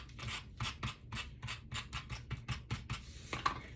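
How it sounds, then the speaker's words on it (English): Repositionable tape runner rolled across the back of paper in a run of quick, rhythmic scratchy strokes, about a dozen short bursts close up, with no talking. "I'm going to put some repositionable tape runner on the back"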